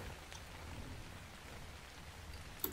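Steady rain falls in the survival game Ark Survival Evolved, a soft, even patter that holds level throughout with a faint rustle near the end.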